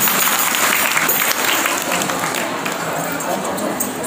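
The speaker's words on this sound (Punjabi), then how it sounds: "ਇੱਕ ਵਾਰੀ ਜ਼ੋਰਦਾਰ ਤਾੜੀ ਲਾ ਦਿਓ ਜੀ ਇਹਨਾਂ ਦੀ ਕਿਸਮਤ ਦੇ।" Crowd at a Punjabi village fair in Bathinda claps for a raffle winner of a camper prize, a dense, steady wash of applause filling the whole stretch at close range.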